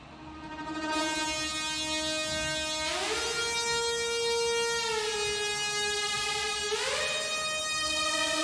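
A bright, sustained synth lead holds long tones that bend smoothly between pitches, rich in harmonics and steady in loudness.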